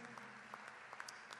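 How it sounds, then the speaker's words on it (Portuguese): Applause from a concert audience at a show in Porto, heard as a steady, fairly distant wash of clapping with a few sharper claps standing out, continuous through the moment. "uma salva de palmas para eles"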